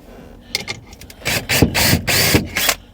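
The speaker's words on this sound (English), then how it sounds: "we're just going to put a couple of screws in" A couple of screws are driven in with a power tool, heard as several short whirring, ratcheting bursts of increasing length separated by brief pauses, close and loud.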